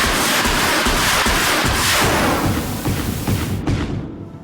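Fireworks fired at the player in the Horizon Zero Dawn video game give a dense, loud crackling roar with booming thuds underneath, which fades slightly toward the end.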